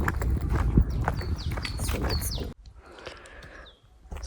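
Horses plod along a snowy mountain trail, their hooves clopping in an uneven walking rhythm close by, with faint bird chirps overhead and a quieter stretch partway through.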